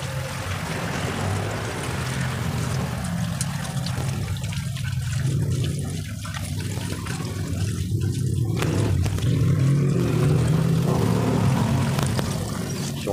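Tap water runs steadily while food is washed and drained in a home kitchen, a continuous splashing flow with some clatter from handling, and no talk.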